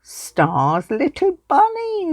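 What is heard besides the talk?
No distinct noise like a dog, phone or traffic.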